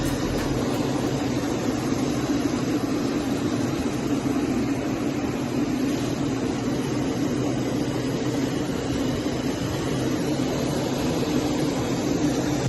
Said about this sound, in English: This fighter jet had to avoid a flock of birds.